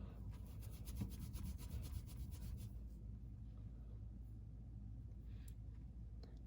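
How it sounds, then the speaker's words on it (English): Palms rub yarn ends together vigorously for a spit splice, a close, rapid rhythmic scrubbing for about three seconds, then softer, slower rubbing with brief scuffs. "rub vigorously so that it's definitely properly joined together"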